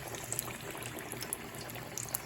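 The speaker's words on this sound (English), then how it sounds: "And I've got that guy frying." Chicken frying in a large pot of hot oil, a steady, soft crackle and fizz with faint sputtering pops, quiet and continuous throughout.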